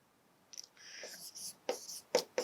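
Writing on a board during a calculus lecture on indefinite integration for JEE exam preparation: a burst of scratchy strokes followed by a few sharper taps and strokes, close and fairly quiet, with no talking.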